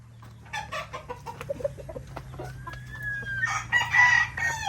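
A straight-combed gamecock rooster on a farm lets out a single drawn-out crow toward the end, preceded by scattered clucks and clatter from nearby fowl.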